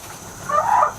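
Farm turkeys in a cage let out a short gobbling call in the second half, a brief warbling burst over a quiet background hum.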